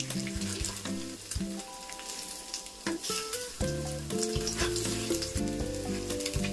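Egg-coated bread slices fry in a pan over medium heat, a loud close sizzle with frequent spatula scrapes and clinks as the slices are flipped, running continuously.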